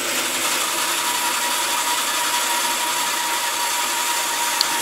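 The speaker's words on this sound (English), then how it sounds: "it's sufficient for cutting the green oak, and it's a fairly quick way of getting quite a nice joint" A bandsaw cuts green oak freehand in a workshop, a loud, continuous buzzing hum of the blade in the wood that holds steady throughout without pause.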